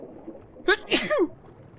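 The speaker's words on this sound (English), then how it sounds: "I sneezed all on my chest there because I was trying not to hit my controller" A single close, loud sneeze from a person playing a video game, a quick sharp intake followed by two explosive bursts against a faint room hum.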